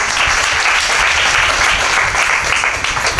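An audience at a rain-soaked kirtan claps loudly and continuously, a dense, close wash of applause lasting a few seconds with no pause.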